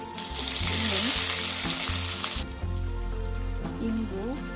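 Curry leaves and spice mix hit hot oil for a Karnataka-style long beans stir fry, a loud bright sizzle for about two seconds that then drops away, leaving background music.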